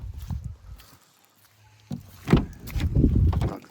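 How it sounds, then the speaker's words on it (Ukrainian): An Opel Vivaro passenger van (2010, 2.5 litre, long body) has its door pulled shut, giving a solid, dull thump close by among other handling noises and low rumbles. "І зараз це почути, як двері дверки закриваються."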